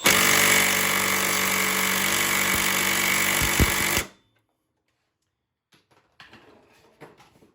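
A big DeWalt impact wrench works on a car's front suspension during a ball joint and tie rod teardown, hammering loudly and steadily for about four seconds before stopping, followed by faint clanks.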